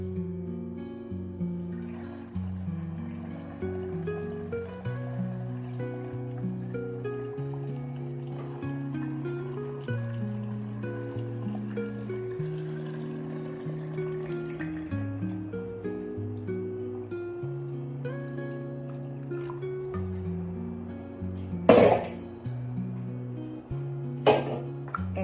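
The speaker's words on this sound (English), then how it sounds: "we're going to very carefully pour this, again, just salt and water brine." Salt and water brine pours carefully through a funnel, giving a gentle trickle and dripping under steady background music, with a couple of louder splashy bumps near the end.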